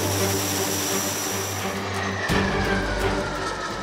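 Military aircraft and helicopters taking part in the Sea Breeze exercise over the Black Sea coast drone steadily with a loud engine and propeller hum, then a sharp shift partway through as the engine tone changes.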